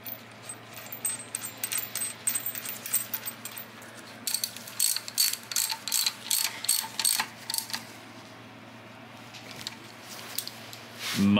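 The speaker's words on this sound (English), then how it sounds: "And there goes the bolt which secures the pin." A bolt is fitted and tightened to secure a new pin on a bushed joint, heard as a run of sharp metallic ratchet clicks and clinks at close range, with no speech.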